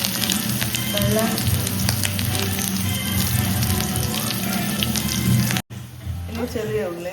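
Tap water runs steadily with a dense rushing hiss, close and loud, briefly cutting out before resuming; faint voice-like sounds appear near the end.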